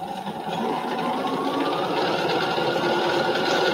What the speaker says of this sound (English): I'm doing a second seam all the way around.